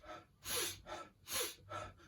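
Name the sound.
Wim Hof-style breathing exercise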